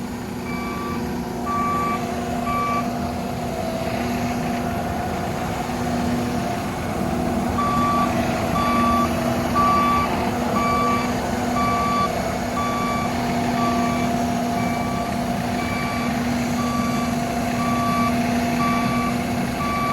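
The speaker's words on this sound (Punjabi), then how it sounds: "ਮਗਰ ਬਾਈ ਟਰੈਕਟਰ ਆ ਗਏ ਜਿਹੜੇ ਤਿਆਰ ਕਰੇ ਹੋਏ ਆ" Heavy tractor engines drone steadily as tractors with trailers arrive for sugarcane harvesting, while a repeating electronic reversing beep sounds in regular pulses, pausing once before resuming.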